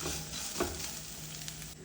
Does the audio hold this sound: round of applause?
no